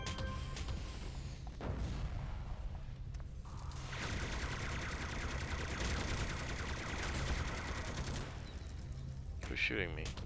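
Gunfire bursts from the superhero video game City of Heroes crackle through a busy battle mix, with dense shots and booms running almost throughout and talk over the top.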